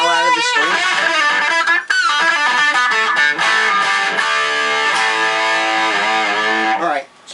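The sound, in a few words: electric guitar with crunch distortion, string bending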